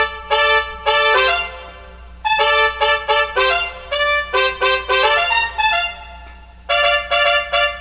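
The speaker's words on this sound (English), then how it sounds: "this is what the trumpets sound like" A recreated trumpet section playing short, punchy brass chords in a bright, staccato rhythm, grouped in bursts with brief gaps between phrases, loud and alone without any talking.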